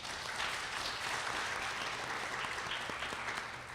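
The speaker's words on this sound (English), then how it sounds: "A big round of applause for Tracy and Bennett." A full room at a public forum on surviving domestic violence in Harris County breaks into a faint, even, continuous round of applause heard from a distance.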